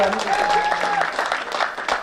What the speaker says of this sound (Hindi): एक बार ताली बजा दो साहब